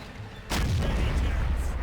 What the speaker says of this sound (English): Now I'm gonna take my first shot here.